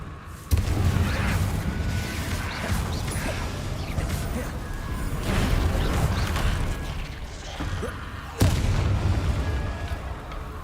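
Explosive Confringo blasting spell in the video game Hogwarts Legacy, heard as booming bursts over a dense, continuous battle rumble that swells twice, with sharp onsets near the start and near the end.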